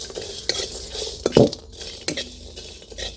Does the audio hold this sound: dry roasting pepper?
yes